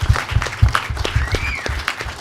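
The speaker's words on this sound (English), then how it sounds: "a round of applause" A small audience at a HOPE 12 hacker conference talk gives a short round of applause, scattered hand claps in an uneven rhythm, fairly close, with a faint whoop rising through it.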